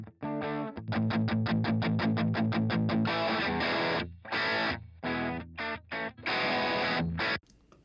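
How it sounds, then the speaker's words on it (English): Electric guitar through a GarageBand Grit distortion pedal plays a fast run of chugging staccato notes, then heavier crunchy chords with short pauses between them. "we're getting our distortion sound from this grit"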